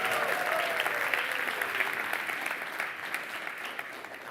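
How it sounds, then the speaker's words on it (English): A gathered audience at a livestreamed talk applauds, a broad, even wash of clapping that holds steady and slowly thins toward the end, with a faint voice briefly audible beneath it early on. "I'm hoping for a bigger applause this time"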